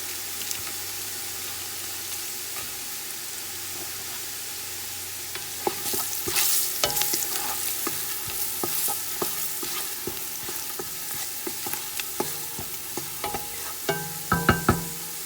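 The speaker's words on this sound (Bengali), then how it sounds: "একটু ভাজা হওয়ার জন্য অপেক্ষা করতেছি পেঁয়াজটা একটু কাঁচা হয়ে গেছে" Onions frying in oil for chicken biryani, a steady close sizzle running throughout, with scraping and clattering stirring strokes joining midway and growing busier toward the end.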